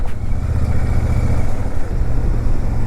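A Royal Enfield Super Meteor 650 motorcycle rides along a mountain road toward Manali, its engine a steady low rumble with constant wind and road noise, close and continuous with no talking.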